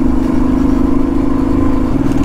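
A car engine revs steadily in second gear on a mountain road climbing toward Chanshal Pass in Himachal, a loud continuous drone with a slight pitch change near the end and no talking.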